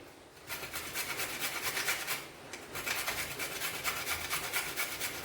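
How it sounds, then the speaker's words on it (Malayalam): A peeled, washed vegetable is rubbed over a hand grater in steady back-and-forth strokes, a close rasping scrape. A brief pause breaks the rhythm midway before the grating resumes. "ഇനിയിപ്പം നമുക്ക് ദാ ഇതേലോട്ടൊന്ന് ഇത് ഉരച്ചു കൊടുക്കാം"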